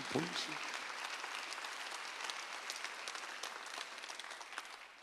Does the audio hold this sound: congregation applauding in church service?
yes